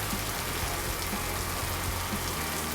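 Steady rain falls on an open golf course in summer, a dense continuous hiss with scattered drops tapping nearby, moderately loud and unbroken for the whole stretch, with no voices.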